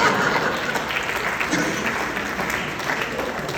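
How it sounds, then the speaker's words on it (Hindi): Steady audience applause at a Hindi poetry recital, many hands clapping together in a dense, even wash that holds at full strength for the whole span with no voices over it. "ताली बजाओ।"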